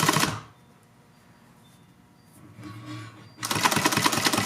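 A sewing machine stitches the long side of a fabric face mask, starting with a short, loud burst of stitching. A quiet pause follows, then the machine runs rapidly and loudly again.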